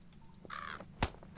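Crows caw outside, a few harsh calls heard at a moderate distance, with one drawn-out caw followed by two short sharp bursts.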